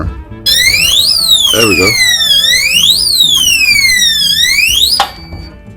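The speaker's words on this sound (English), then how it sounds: "I think this one will start the alarm." The built-in alarm of a BlackSmith SF0105 rifle safe wails in loud sweeping rising and falling electronic tones for several seconds, then cuts off; a voice speaks briefly beneath it.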